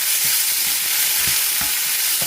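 Black urad dal frying in a pan for chutney while being stirred, a steady loud sizzle with rhythmic scraping strokes of the spoon about every half second, close up and with no voices.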